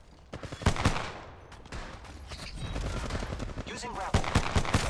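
Rapid gunfire crackles through a round of Apex Legends, loud bursts and sustained automatic shots with short pauses, under occasional game voice lines.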